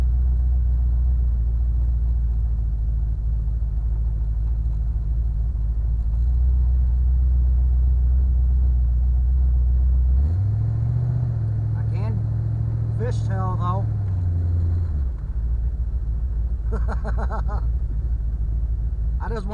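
A car drives past on a snowy road, a low engine swell rising and falling over a constant deep rumble from an idling 331 stroker engine, with someone talking over it.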